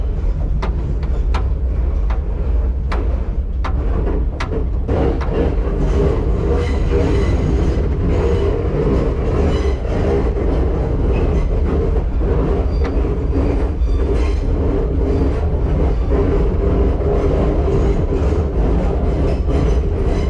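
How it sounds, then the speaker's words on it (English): An R9 subway car rolls slowly over a trestle at a trolley museum in East Haven, Connecticut, with a steady loud rumble, clicking wheel joints early on and a continuous low drone throughout, no talking. "This trestle, we want to go very slow over it."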